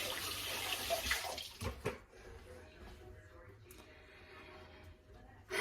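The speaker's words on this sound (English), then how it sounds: "And I'm going to wash my hands real quick." Water from a kitchen tap runs over hands being washed for about two seconds, close and fairly loud. Quieter handling sounds follow.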